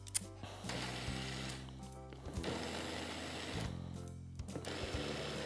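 A kitchen blender pureeing celery, fennel and pear soup, its motor whirring in several bursts separated by brief pauses, close and fairly loud with no talk over it.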